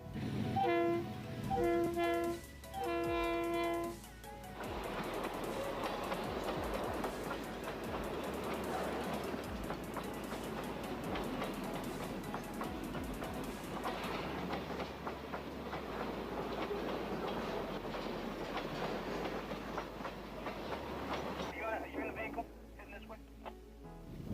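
A freight train rumbles past in Texas with a steady, heavy roar and rattling cars, preceded by repeated horn blasts; a voice speaks over it briefly.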